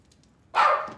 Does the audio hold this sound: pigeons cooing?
no